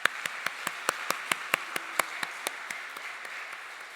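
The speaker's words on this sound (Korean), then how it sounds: "앞으로 지키실 하나님 앞에 우리 영광의 박수를 좀 한번 돌렸으면 좋겠습니다" Sparse clapping in a church congregation during a Sunday service, a few sharp, evenly spaced hand claps ringing out one after another over a faint background of other hands.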